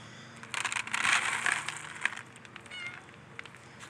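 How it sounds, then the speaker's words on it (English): A kitten gives a few short meows amid rustling and crunching handling noises, the cries moderately close and intermittent over a few seconds. "Where's your kitten at?"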